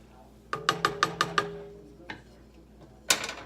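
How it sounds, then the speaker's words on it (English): A spoon stirs seasoning into a pot of liquid for a Southern meal, giving a quick run of about six rhythmic clinks, then a lone tap and a final scraping clatter, close and fairly clear. "So I'm going to start with 1 tablespoon, and then I'm just going to stir that up."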